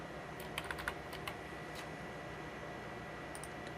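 Faint, quiet typing on a computer keyboard, a few scattered soft key taps near the start and end over a low steady background hum.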